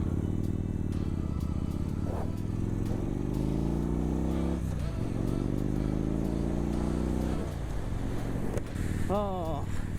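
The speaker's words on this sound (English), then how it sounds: "I'm revving my engine, letting people know I'm coming in" A motorcycle engine revs in rising and falling sweeps while riding, rumbling close and loud, with wind noise and a rider talking over it.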